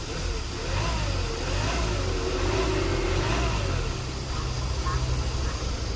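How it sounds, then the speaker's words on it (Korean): A 2017 Hyundai Porter II wing-body truck's Euro 6 diesel engine, with about 574,000 km, runs at a low, even idle with a slight rise in revs partway through, close by and fairly quiet. "엔진 소리 이렇게 조용해요."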